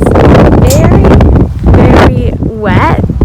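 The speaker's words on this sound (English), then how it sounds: "it is very windy" Strong wind gusting outdoors on a rainy day at a horse farm's wet round pen, loud broadband buffeting that hits the microphone continuously, with a short lull midway and a voice speaking over it.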